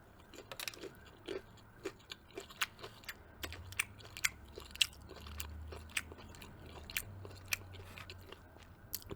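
Popeyes chicken fingers eaten up close, giving quiet, crunchy bites and chewing with irregular sharp crackles over a soft background hum.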